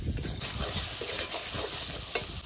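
Banana flower and river fish stirred in a hot pan for a Bengali curry, a steady close scraping and shuffling over a soft sizzle, with a couple of sharper clinks of the spoon against the pan.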